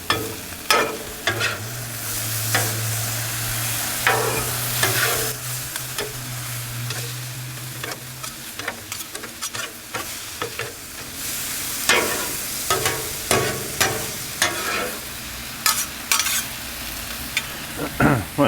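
Ribeye and onions sizzle on a Blackstone griddle with a steady close hiss, broken by repeated scraping and tapping from a spatula as the meat is flipped and pushed around; no voices.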